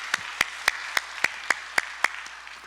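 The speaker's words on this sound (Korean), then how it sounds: "수고하신 우리 찬양팀들에게 격려의 박수 부탁드립니다" Members of a Korean church congregation at a Sunday service clap for the worship team in an even rhythm of about nine sharp, evenly spaced claps, moderately faint over a quiet room.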